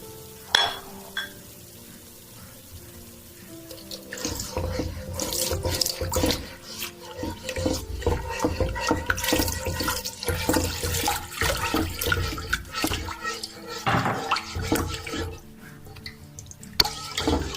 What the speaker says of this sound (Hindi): अब मैं इसमें थोड़ा थोड़ा करके दूध शामिल करूंगी।